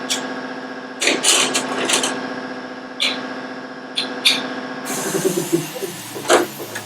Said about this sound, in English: It's got loud in here because my compressor, but whatever.